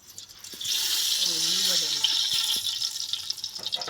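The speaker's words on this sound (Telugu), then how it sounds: "అన్నిటికన్నా ఫస్ట్ ఆయిల్ పోసుకోవాలి" Cooking oil pours steadily into a clay pot for a masala chicken curry, a continuous liquid hiss lasting about three seconds at close range, with a voice briefly humming or speaking softly beneath it.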